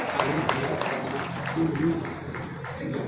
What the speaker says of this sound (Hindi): साथियों जोरदार तालियां बजा दीजिए